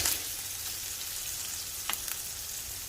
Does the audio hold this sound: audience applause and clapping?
no